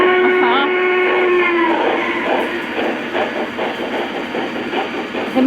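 Model O gauge train locomotive playing engine sound through its built-in speaker, a horn-like tone at the start giving way to rhythmic chugging and clattering, loud and close, with people talking over it.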